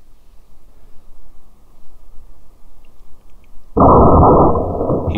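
A rifle shot fired at a 260 lb boar on a night thermal hunt: stillness and faint low rumble, then a sudden loud, close blast whose heavy roar carries on to the end.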